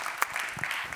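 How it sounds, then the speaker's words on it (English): Brief, fairly faint patter of audience applause at a development-policy conference, scattered claps over about a second. "Second applause, please"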